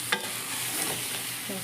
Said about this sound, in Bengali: সিদ্ধ করে সব মশলা দিয়ে, তারপরে ব্লেন্ডারে কিমা করে তারপরে ভাজি করতেছি